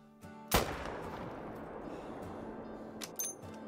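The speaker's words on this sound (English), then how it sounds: "Well, that was a perfect shot." A Mosin rifle fires once in the hunting game Call of the Wild: a single loud, close shot with a long rumbling echo that fades slowly, followed by a couple of faint clicks.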